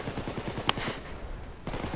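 Rapid bursts of gunfire in the video game Payday 2, a sharp crack standing out midway, with a brief lull before the shooting picks up again.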